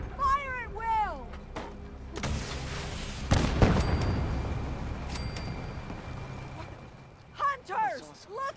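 Weapons fire and heavy booms in a foggy coastal battle in Fallout 4 Far Harbor, with a few loud blasts in the middle and voices shouting before and after.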